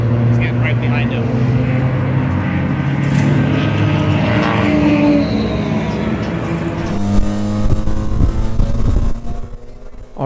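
A rusty, 30-year-old Mazda RX-7 FC rotary race car buzzes loudly through an endurance race, its engine pitch rising and falling with shifts and throttle, and a voice talks over the noise.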